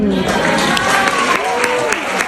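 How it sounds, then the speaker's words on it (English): A studio audience on a daytime talk show claps steadily, a dense patter of applause under a speaking voice that carries over it for the whole couple of seconds. "And people are clapping."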